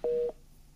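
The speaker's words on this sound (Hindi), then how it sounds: "मोगा साहब फोन लाइन पर नहीं है।" A single telephone busy-signal tone from a call that fails to connect, one clean steady beep about a quarter second long, loud and close, followed by quiet line hiss.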